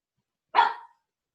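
A single dog gives one short, sharp bark, close and clear against complete silence.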